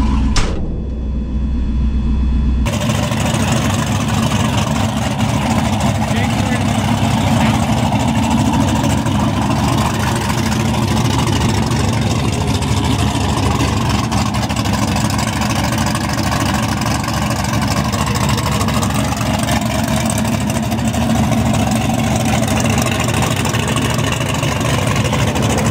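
The turbocharged engine of a Ford Fairmont street car idles loudly and steadily with a deep rumble for the whole stretch, close by, with no talking.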